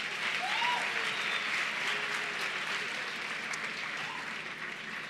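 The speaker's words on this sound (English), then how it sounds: "Can we please give the Deputy Minister another round of applause?" Sustained applause from an audience at the official launch ceremony of National Science Month, honoring the Deputy Minister; dense steady clapping fills the hall for several seconds, gradually easing off.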